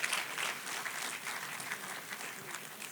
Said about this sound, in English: Ladies, gentlemen, the applause to Martha